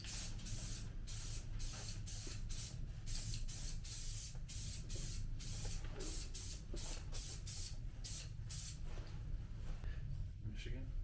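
A spray can applies Satin Lagoon Blue paint to a mini-bike in a string of short, hissing bursts with brief gaps between them, fairly quiet, with faint voices in the background.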